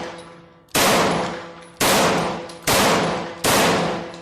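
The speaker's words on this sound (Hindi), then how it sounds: "बंगाल के गवर्नर स्टैनली जैक्सन पर नजदीक से 5 गोलियां चलाई।" Four loud gunshots ring out about a second apart, each a sharp crack with a long metallic decaying tail, close and alone.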